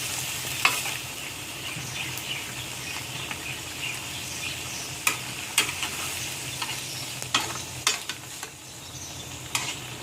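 Young chillies and eggplant cook in a simmering catfish and pickled bamboo-shoot curry, giving a steady sizzling bubble with occasional stirring clinks close by and no talk.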